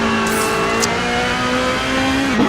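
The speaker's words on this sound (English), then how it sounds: "Kalili having to use the engine brake feature here" Race car engine braking into Luffield corner at Silverstone in the Gran Turismo video game, a loud, steady, close engine drone that holds its pitch and then dips at the end.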